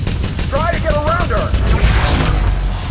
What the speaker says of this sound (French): On peut essayer le spammer, l'arme à distance de Nilin.